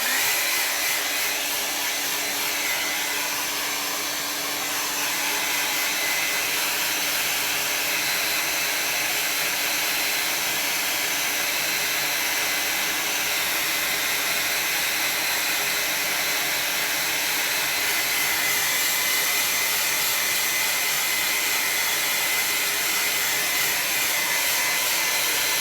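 A hair dryer blows over a watercolor painting, a loud, close, steady whooshing roar that runs without interruption for the whole stretch.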